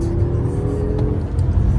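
An old Beetle-style car drives steadily with a low, continuous engine drone and road rumble from inside the cabin, no voices over it.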